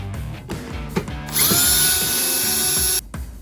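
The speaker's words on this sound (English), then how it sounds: "drill your hole" A power drill whirs into a hole in one steady, high-pitched burst lasting under two seconds, with softer tapping and handling noises before and after.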